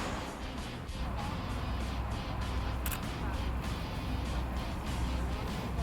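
Busy city street traffic with cars, buses and trucks rumbling past in a steady loud roar, heard close up while a person talks over it.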